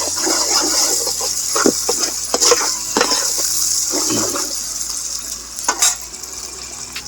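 Fish curry with fresh ground ginger stirred in a pot, a close, continuous wet scraping and swishing with a few louder clinks of the spoon against the pot's side.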